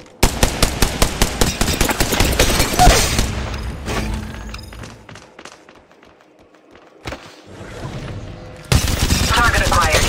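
Rapid automatic gunfire from the Apex Legends Mobile video game, loud bursts of close shots that pause midway and then resume, with brief voice callouts.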